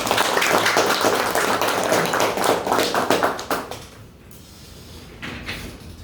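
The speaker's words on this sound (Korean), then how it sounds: "큰 박수로 우리 목사님" An audience at a civic leadership forum applauds as a pastor is introduced. The clapping is dense and loud for about four seconds, then fades to quiet, with a few scattered claps near the end.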